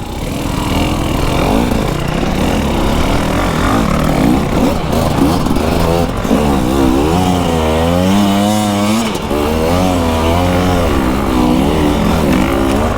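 A KTM hard enduro motorcycle roars loud and close, its engine revving up and down in rising and falling sweeps as it rides, with no pause in the sound.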